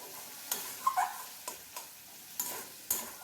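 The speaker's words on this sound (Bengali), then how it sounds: "এখন নাড়াচাড়া করছি আর টমেটোগুলো এইভাবে খুলতে দিয়ে একটু চেপে চেপে টমেটোগুলো একটু ম্যাশ করে দিচ্ছি" Spoon stirring and pressing tomatoes in a pan over low gas for a vegetarian cabbage dish, heard as a few scattered scraping taps and soft clicks over a quiet background with light sizzle.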